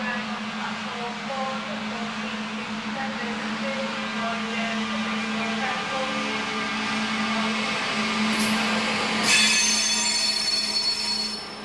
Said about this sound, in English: The White Rose service from King's Cross to Leeds pulls in and departs on time